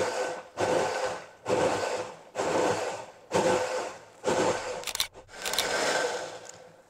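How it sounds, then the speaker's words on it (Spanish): A blender purees hot tomato soup in repeated loud bursts, about six pulses with brief pauses between them, then ends in one longer continuous run, close by with no talking. "y la vas a comenzar a licuar"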